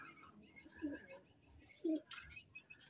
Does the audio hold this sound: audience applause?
no